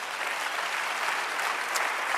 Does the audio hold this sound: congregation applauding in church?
yes